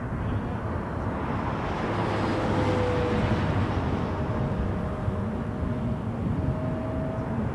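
A Porter Airlines plane comes in to land on runway at Toronto Pearson, its steady broad engine roar holding loud and even throughout, with a faint whining tone drifting above the rumble and no voices.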